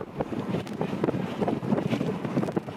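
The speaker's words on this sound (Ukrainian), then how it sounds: "Вітерець в той день здійнявся з океану такий, що машину зносило з дороги" Strong wind off the ocean in Iceland buffets the microphone in steady roaring gusts, with a low rumble throughout and no voices.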